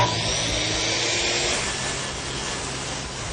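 A power saw cuts a marked plywood sheet braced on safety sawhorses, giving a continuous, even, close whine that holds steady for several seconds with no talking over it.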